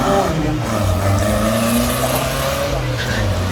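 Engines of a 1970 Volkswagen Spyder Porsche replica and a Toyota drag racing at Santa Pod Raceway, a loud continuous roar with steady tonal drone throughout, a commentator talking over it.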